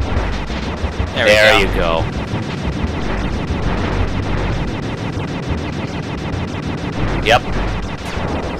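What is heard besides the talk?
shots firing in the video game Sly 2: Band of Thieves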